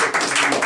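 Brief burst of audience applause at a book presentation in a small room, several close hands clapping in a quick, bright patter that swells and dips for under a second.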